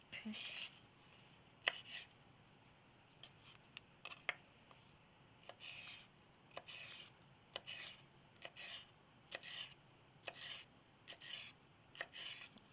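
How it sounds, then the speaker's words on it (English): Knife chopping a red bell pepper into long strips on a cutting board, with a steady series of crisp, separate cuts at a moderate pace, fairly close and clear, with some quiet talk in between. "start on our red bell pepper as well. And I'm going to do some longer pieces and do strips."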